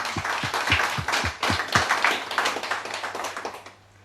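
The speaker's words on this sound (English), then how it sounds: "I'd like to give her a round of applause, if you please." Scattered clapping from a small audience at a talk: distinct, separate claps in a quick uneven rhythm, fairly close, thinning out and fading away at the end.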